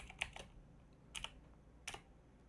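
Code being typed on a computer keyboard, three short bursts of quiet key clicks spaced apart, close and faint with nothing else around them.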